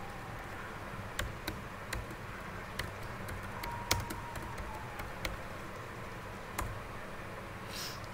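Sparse, crisp key taps on a computer keyboard while Python code is written, irregular single clicks spaced over several seconds above a faint steady room hiss, close and fairly quiet, with no talking.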